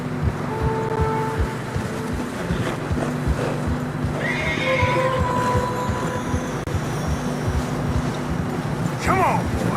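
Horses in Red Dead Redemption 2 plod through fresh snow with steady clip-clopping hooves and snort, with a whinny near the end, over a constant low rumble of wind and movement.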